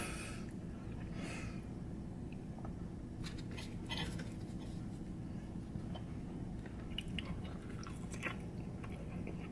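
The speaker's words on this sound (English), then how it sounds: "Now let's eat it with tortilla." Someone eats chicken mole with tortilla: soft, close chewing and occasional bites, with faint clinks of dishes or cutlery in a quiet room.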